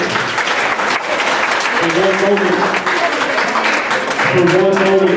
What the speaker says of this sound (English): you can clap, that's cool, man